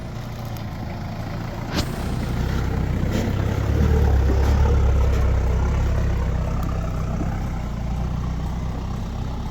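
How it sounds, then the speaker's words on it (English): A Nissan Patrol and Toyota Hilux 4WD driving in convoy down a swampy bush track, a low steady engine rumble swelling as they approach, with a sharp knock early on. "Got to get them convoy shots in coming down the track."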